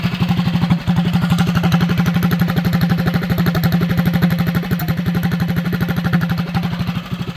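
A small mini bike motor idles at 1450 rpm, close and clear, giving a fast, even stream of thudding exhaust pulses with no voices over it.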